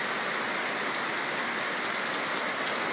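Heavy rain falls in Neyyattinkara, Thiruvananthapuram, as a dense, steady, hissing downpour that stays constant and loud throughout with no break.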